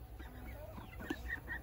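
Chickens cluck quietly on a rural farm in Vietnam, with a few soft, brief calls over a low background hum.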